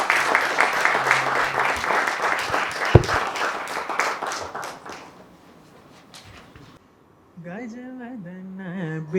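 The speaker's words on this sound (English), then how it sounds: "A warm round of applause, please." At a book launch, an audience claps warmly as guests join the stage for a lamp lighting, with brisk rhythmic applause and one sharp knock before it dies away, followed by a singing voice.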